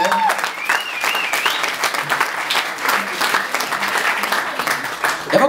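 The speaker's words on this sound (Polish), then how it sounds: "Wielkie brawa dla wikinga" Audience applause welcomes the star performer at a comedy roast held at a brewery in Szczecin, a steady, dense wash of clapping with scattered whistles and a voice faintly audible underneath.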